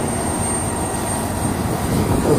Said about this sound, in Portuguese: O avião já tá saindo aí pra Floripa.